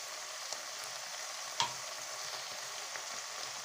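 Bulgur sizzles softly in a hot pan while a cooking spoon stirs it, with a steady frying hiss and a few light scraping taps, close and quiet with no talking.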